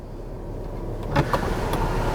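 A 2021 Cadillac XT5's rear hatch closes under power, a steady motor hum close by, with a firmer thud partway through as it shuts and latches.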